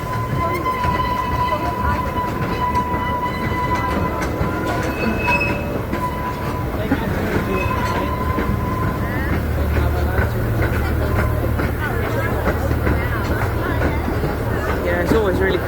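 A Pleasure Express amusement park train at Pleasure Beach Resort rumbles steadily along a track with clattering wheels and occasional faint squeals, continuous and fairly loud throughout.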